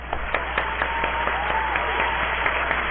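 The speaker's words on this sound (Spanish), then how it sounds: "vamos a darle un fuerte aplauso" A small studio audience at Miraflores TV Digital applauds a guest doctor on an interview program, with a continuous, even patter of clapping over a steady low hum.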